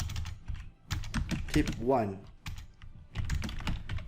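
Clacking on a computer keyboard while typing a Microsoft Word document comes in quick irregular bursts, heard close, with someone talking over parts of it.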